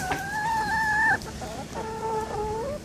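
Backyard coop chickens cluck and squawk close by in a short burst of calls, one long drawn-out cry followed by choppier clucks.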